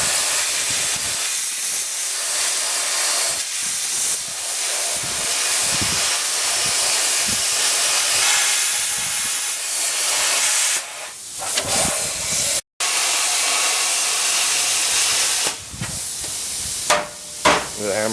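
A plasma cutter hisses loudly and continuously as it cuts out a vehicle frame, with a brief break and some clanks of metal, the harsh steady rush dominating the shop close by.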